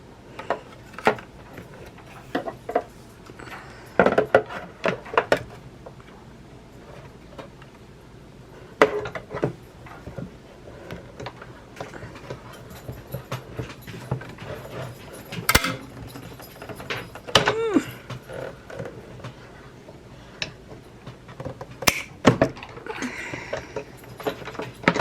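Scissors snip out a paper square for a birthday card, making scattered crisp cuts and rustles close by with irregular pauses between bursts.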